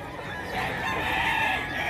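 Fighting cocks at a gamefowl yard in Bocaue, Bulacan, one drawn-out crow ringing over low clucking, fairly loud and near.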